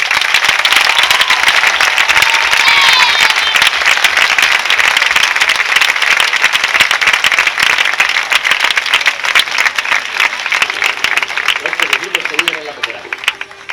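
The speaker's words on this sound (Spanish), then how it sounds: "por favor un aplauso para Jorge y para Joaquín" A crowd at an outdoor summer fair in the gardens of a Valencia palace gives a loud, sustained round of applause for the lighting and sound technicians, with voices and whistles mixed in before it thins at the end.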